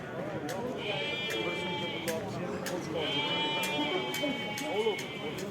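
Sheep bleat at a livestock market in Kokand, with two long, drawn-out calls rising over a busy background of people talking and general market noise.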